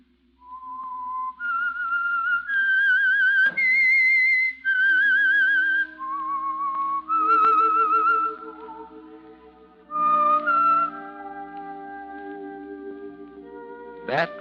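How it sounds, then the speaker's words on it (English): A solo whistled theme melody from the 1946 radio drama The Whistler, clear and tonal, rising and falling through several sustained phrases with a slight echo, over a faint low hum. "That whistle is your signal for the Signal Oil program"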